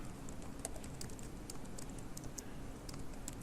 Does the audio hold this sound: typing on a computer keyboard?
yes